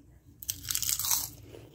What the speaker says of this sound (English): You can hear that crunch.